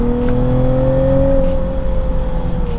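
Nissan 370Z engine fitted with silicone intake pipes, a loud, deep drone while accelerating, heard close and continuously for a few seconds with no talking.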